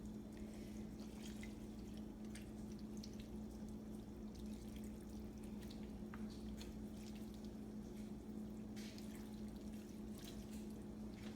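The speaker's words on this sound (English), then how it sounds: "I'm just gonna pour the milk on there and let it bake." Milk being poured over macaroni and cheese in a baking dish, a steady faint liquid trickle and splash lasting throughout over a constant low hum, with no talking.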